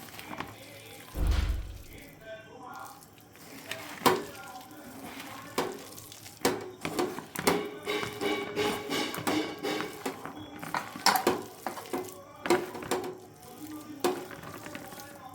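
Onion pakora batter is worked by hand after water is added, giving wet squelching, slapping and stirring sounds, close and irregular, with occasional thumps against the bowl.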